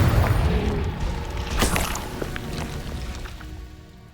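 A Confringo fire spell blast in Hogwarts Legacy erupts with a booming burst followed by crackling, fizzing debris that fades over a few seconds.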